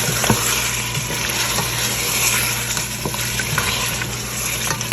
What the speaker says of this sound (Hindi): बस थोड़ा थोड़ा छींटा देंगे और साथ साथ भूनते चले जाएंगे ताकि नीचे लगे ना